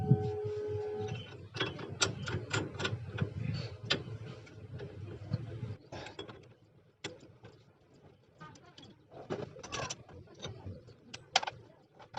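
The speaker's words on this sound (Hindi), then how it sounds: "इस पुलर की मदद से हम इस नट को खोलेंगे।" A puller tool working the clutch nut of a Passion Pro motorbike gives close, irregular ratcheting clicks and metallic ticks, with a busier mechanical stretch early on and sparser clicks later.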